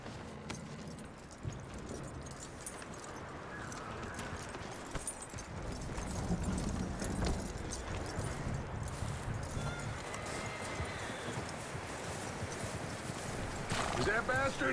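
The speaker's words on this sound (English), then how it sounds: "That looks like a decent horse." Horse hooves clip-clopping and a whinny in Red Dead Redemption 2, steady hoofbeats at a walking pace with tack jangling, near and moderately loud, while someone talks over them.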